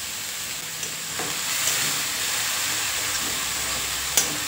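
Shredded cabbage is stir-fried in a pan for a dry sabzi, giving a bright, steady hiss of frying with a few soft scrapes of mixing and one sharper clink near the end, no voices.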